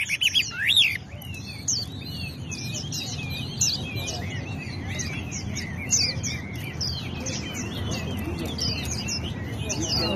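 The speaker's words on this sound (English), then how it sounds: "What's the name of this bird?" A caged bird chirps in quick, bright, repeated tweets over a steady low background hum, fairly close and continuous throughout.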